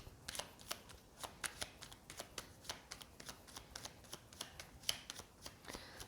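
A deck of oracle cards being shuffled close by, a rapid, fairly even run of crisp flicking riffles and slaps with no voices, quiet overall.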